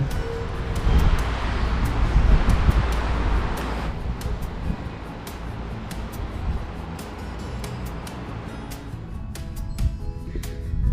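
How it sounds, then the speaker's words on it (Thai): Cool wind blowing at the top level of a three-storey pagoda overlooking the sea, a steady broad rush buffeting the microphone with gusts, loud and continuous with no talk. "อากาศดีลมเย็น"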